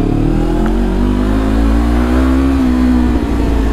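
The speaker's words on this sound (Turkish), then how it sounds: "Şu debriyajı bir anda bıraktığınız zaman teker yapıyorsunuz" Motorcycle engine revving hard and steadily as the rider lifts into a wheelie, a loud, close, continuous roar with a rising pitch that drops off near the end.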